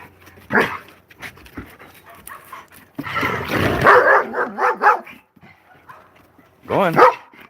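Large dogs, one of them a big female, bark in several loud bursts close by, with panting and snuffling in the pauses between.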